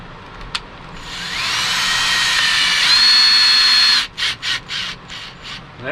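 A power drill drives screws in while a Maxx Air roof fan is installed, whining steadily for about three seconds at close range, then stopping and giving several short bursts.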